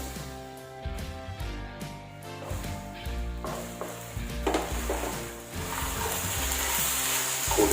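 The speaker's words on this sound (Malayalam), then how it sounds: "ഇതിലേക്ക് ഇനി പോർക്ക് സ്ലൈസായി അരിഞ്ഞ് വെച്ചത് ഇടുകയാണ്." Sliced pork dropped into hot masala oil for ginger pork, sizzling louder as the pieces go in, with stirring and pan clatter over a faint tonal background and no talk.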